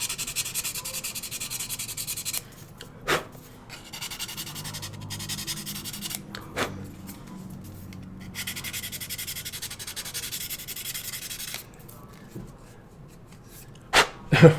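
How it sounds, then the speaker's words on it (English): A few short bursts of hand scraping are followed by brief passes of sanding, quiet and close, separated by pauses with low background hiss. "Give that a little scrape. Go, and a quick sand."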